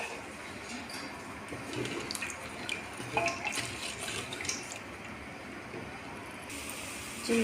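Water pours steadily into a cooking pot holding chicken for chicken pulao, a continuous close splashing and gurgling rush with no talk over it.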